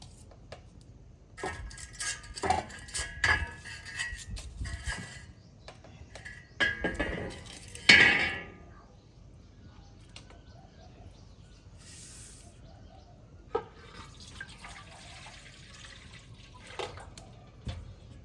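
A pot and water are set up over a lit fire for boiling porridge in a village kitchen: faint clinks, splashes and handling noises come in scattered bursts, with one louder knock midway and quiet gaps between.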